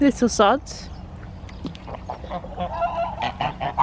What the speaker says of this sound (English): There's a geese.